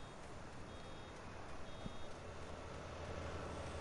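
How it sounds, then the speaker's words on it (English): Farm machinery in Farming Simulator 19 on the Purbeck Valley map, giving off a steady run of faint, regular warning beeps over a low engine rumble, with no talk. "Did that just beep at you like you were dropping a bale?"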